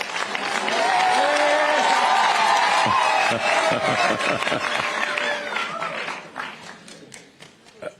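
An audience at an outdoor forum with people living with disabilities in Kenya claps and cheers in a sustained burst, a few whoops over the applause before it thins and fades toward the end.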